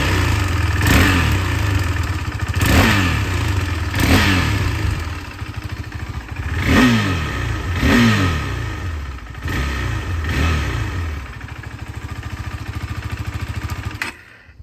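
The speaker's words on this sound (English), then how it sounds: "Give the throttle a couple blips." A 2022 KTM RC 390 motorcycle engine idles with a low rumble, then its throttle is blipped several times, each quick rev rising and falling back to idle.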